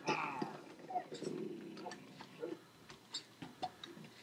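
Minecraft wolves yapping in short, sparse bursts, moderately close, scattered through game ambience with small clicking ticks between them.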